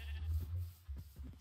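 Goats bleating in the video game Minecraft: several short, nasal bleats come one after another at close range, some overlapping, with no speech.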